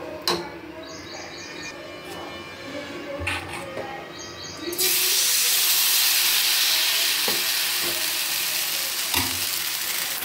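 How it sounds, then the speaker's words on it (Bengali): Batter pancakes made with yogurt fry one by one in a pan for breakfast. A few light clinks come first, then about halfway through a loud broad sizzle suddenly rises and holds steady with occasional taps. There is no talk. "তো দেখো বন্ধুরা একে একে ভাজতে থাকছি"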